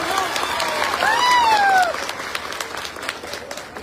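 Applause from a crowd at a Congress-aligned political rally in Assam, a dense burst of clapping that swells and then thins out, with a faint voice and a whistle-like tone over it.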